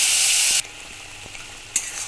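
Spices hit hot oil and sizzle loudly for half a second, then drop to quiet scraping and stirring in the pan of an eggplant dish. A second brief sizzle flares near the end.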